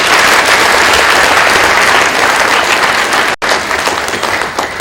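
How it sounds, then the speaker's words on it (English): A large audience at a university special congregation breaks into loud, sustained applause, dense and continuous clapping filling the space with a brief dropout partway through. "I think we can do the applause for Father."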